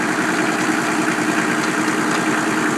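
Kubota M4050 two-wheel-drive full-size tractor engine running steadily at a close, constant level, a dense even mechanical drone with no talk.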